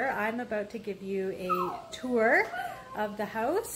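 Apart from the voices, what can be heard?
dachshund whining indoors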